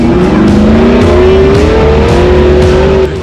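A Jeep JL engine revs loud and close while four-wheeling on the Rubicon Trail, a steady throttle drone that rises and falls through the whole stretch and drops off at the end, with no talk.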